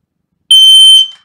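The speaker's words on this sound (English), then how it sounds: "if you do hear a smoke alarm going off" A home smoke alarm gives a single sharp, loud electronic beep lasting about half a second, then decays quickly into silence.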